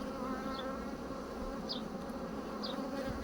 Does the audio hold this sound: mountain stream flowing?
no